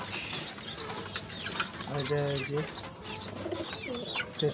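Pigeons in a loft coo in soft, repeated throaty rolls during cold winter weather, close by, while someone talks over them.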